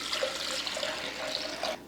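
Water poured into a pot of lentils and tomato for cooking dal gives a steady, fairly quiet splashing gush lasting under two seconds, ending abruptly.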